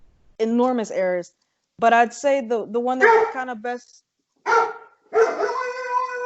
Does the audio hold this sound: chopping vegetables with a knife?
no